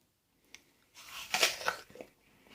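A bite into a crunchy, fresh, slightly russeted allotment apple gives a sharp crisp snap followed by a few moist crunching chews, close to the ear.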